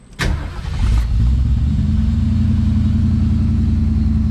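A Ford Maverick engine with an Edelbrock Pro Flo 4 fuel injection cranks briefly and catches, then settles into a steady, loud idle rumble close by.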